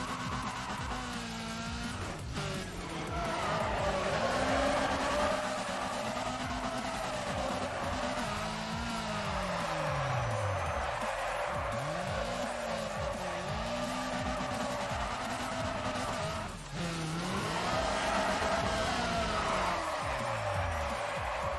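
Cars drift and skid through corners in the racing game Need for Speed: Pro Street, with engines revving loud and steady and tires squealing in long sweeping slides over most of the stretch.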